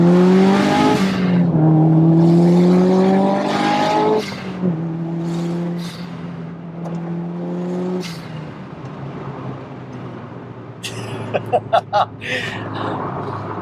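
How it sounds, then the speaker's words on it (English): A Subaru Impreza STI Spec C turbocharged engine of about 360 bhp revs up through its range with rising pitch as the turbo spools, loud and close, then a few sharp clicks and pops near the end. "it goes through the rev range, the turbo spools, perfect"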